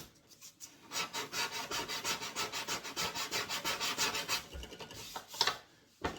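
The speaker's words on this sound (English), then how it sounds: "try to sand with the grain" Wood is sanded by hand along the grain in a quick run of rhythmic back-and-forth rasping strokes, close and steady, ending with a few looser scrapes and taps.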